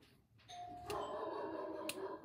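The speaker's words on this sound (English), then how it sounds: "Someone rang the doorbell" A home doorbell rings indoors with two bright chimes roughly a second apart, fairly close and clear over a quiet room.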